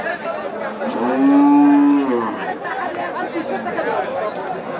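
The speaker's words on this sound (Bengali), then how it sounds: "এখানে আরটি মাংসের গরু দেখছি আমরা" Beef cattle and a pair of bullocks at a busy rural cattle market in Nilphamari; one long, loud, close moo swells and fades in the middle, over steady crowd chatter and nearby voices.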